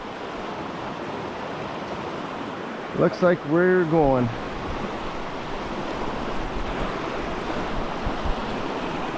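Water rushes steadily through the big chute of the Milk River during a canoe run, a broad loud wash that fills the whole clip, with a brief burst of speech near the middle.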